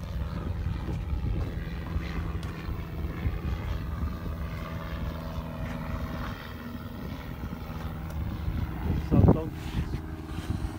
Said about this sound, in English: Aeroplane, Scotty.